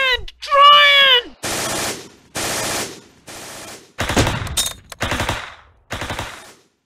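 Automatic gunfire from the wartime tactical video game Close Combat, loud bursts repeating in rapid volleys with short gaps, mixed with shouted voices and a groan early on.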